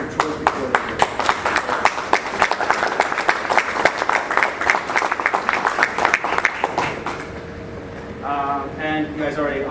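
An audience applauds at a city committee-of-the-whole meeting, a steady wash of clapping from a roomful of people with some sharp individual claps, which fades near the end as a voice begins speaking.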